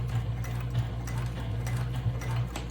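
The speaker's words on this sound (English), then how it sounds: "Okay, so now I'm going to start to stitch. And then back stitch." A sewing machine stitches thick bag-strap webbing back and forth in steady rapid rhythm, a continuous close mechanical hum with faint ticking, heard alone without talk.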